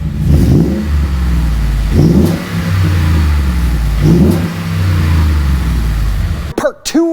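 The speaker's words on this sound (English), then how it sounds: "What this JBA exhaust sounds like" A Ford F-150 engine revs repeatedly through JBA dual exhaust headers, three loud throttle blips roughly two seconds apart over a deep rumbling idle, close by, ending with a brief voice.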